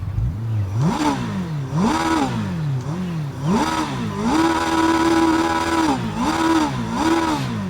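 In the racing game RIDE 5, a fully tuned 2016 Kawasaki ZX-10R with an SC Project exhaust is revved at a standstill. About seven sharp throttle blips rise and fall, with one held longer in the middle, loud and close.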